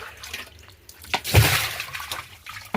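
Water drains and splashes out of a drum being rinsed clean, with a brief rushing, gurgling burst in the middle that trails off into faint trickling.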